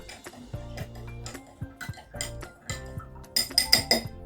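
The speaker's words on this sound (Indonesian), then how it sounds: "Selanjutnya kita aduk berasnya." A metal spoon stirs uncooked rice in a bowl, giving a string of close, bright clinks and scraping taps in an uneven rhythm that quickens toward the end.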